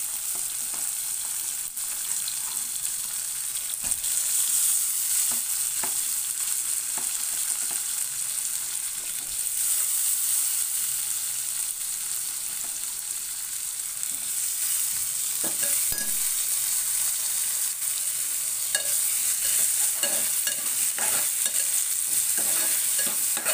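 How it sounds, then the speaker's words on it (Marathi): Tomatoes fry with onions in a hot pan while being stirred, a steady loud sizzle running throughout with scattered scraping knocks from the utensil, close up and with no voices. "टोमॅटो मऊसर होईपर्यंत परतून घ्यायचा"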